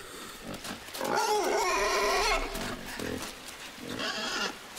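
Grunting and squealing pigs from the puzzle-platformer video game Inside, with a burst of overlapping calls in the middle, a brief pause, then a shorter round of snorts near the end, moderately loud.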